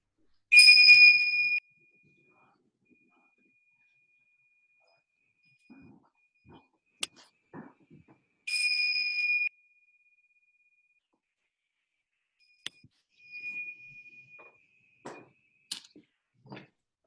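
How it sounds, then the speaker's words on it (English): Meditation bells ring out twice at a yoga and qi gong session, each a bright, clear strike with a long fading tone, set apart by near silence and a few soft scattered knocks. "let's begin with the sound of the bells."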